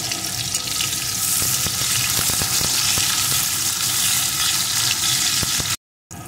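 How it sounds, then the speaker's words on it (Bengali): Chopped onion fries loudly in a pan in a continuous, bright sizzle with scattered pops and crackles. A brief silent gap comes near the end, then the sizzle resumes. "পেঁয়াজ কুচিটাও একটু ভেজে নেব"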